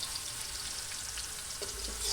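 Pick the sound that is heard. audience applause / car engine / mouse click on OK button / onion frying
onion frying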